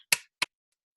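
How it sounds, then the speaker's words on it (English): Two sharp hand claps ring out close by from children in a classroom lesson on sound, spaced about a third of a second apart, with silence after. "let's all clap hands and make the sound"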